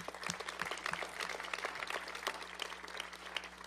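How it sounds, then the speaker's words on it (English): A crowd applauds at an outdoor groundbreaking ceremony for veterans housing at Walter Reed. The clapping is dense and continuous, with a low steady hum underneath. "that alone deserves a round of applause"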